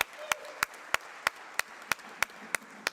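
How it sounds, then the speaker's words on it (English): Clapping at a conference session on scaling for impact: sharp, evenly spaced claps at a quick, steady rhythm, fairly close and distinct rather than a full crowd roar. "Can we give them a big round of applause?"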